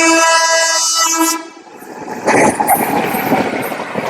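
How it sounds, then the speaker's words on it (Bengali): The 12074 Bhubaneswar–Howrah Jan Shatabdi Express sounds a long, loud horn, then roars past close by with a broad rush of wheel and carriage noise that swells and stays loud to the end. "12074 ভুবনেশ্বর থেকে হাওড়া জনশতাব্দী এক্সপ্রেস"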